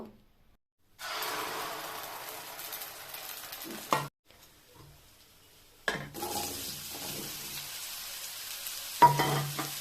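Washed, squeezed soya chunks frying in a pan, a broad sizzle that starts abruptly, cuts out briefly midway, then resumes with occasional scraping stirs, close and fairly loud.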